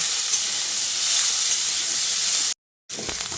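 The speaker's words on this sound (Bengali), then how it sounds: "পেঁয়াজটা দিয়ে আলুর সঙ্গে আরও কিছুক্ষণ ভেজে নেব" Potatoes and chopped onion fry in a pan with a steady, loud hiss and sizzle that runs unbroken, then cuts out briefly and resumes near the end.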